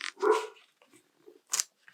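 Dogs bark at a postman arriving with the mail, a couple of short, sharp barks with quiet gaps between them, heard from close by.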